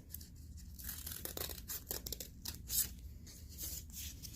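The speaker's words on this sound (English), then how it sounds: "I'm going to cut a" Scissors snip through folded black craft paper to cut triangle shapes, giving a series of irregular close crisp cuts and rustles with no voices.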